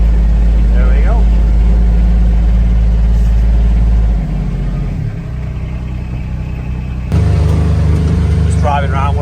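A Corvus UTV engine hums steadily as the vehicle drives around a field, a loud low drone that dips and rises in pitch, with someone talking over it at times.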